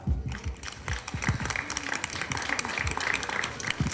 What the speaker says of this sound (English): Don't they deserve a clap?